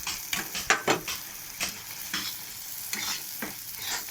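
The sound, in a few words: stirring egg curry in a pan, sprinkling coriander leaves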